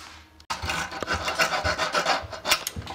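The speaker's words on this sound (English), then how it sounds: "It's just a lot of corrosion all over this stuff, so I'm just cleaning up the rust and whatever else this is." Rust and corrosion are scrubbed off parts of an oil-filled electric heater in a rapid series of close, rasping strokes after a short pause.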